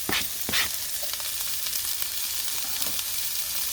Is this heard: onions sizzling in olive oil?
yes